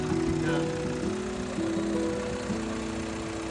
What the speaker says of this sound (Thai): นี่เครื่องยนต์ทำงานอยู่นะ